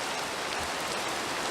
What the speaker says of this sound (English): as I get near the top it should start sounding like rain again